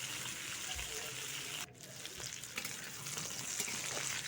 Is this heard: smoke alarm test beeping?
no